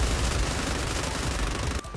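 Cannon fire in the video game Nikke, a dense, continuous barrage of shots and blasts with no gaps, loud throughout, cutting off abruptly near the end.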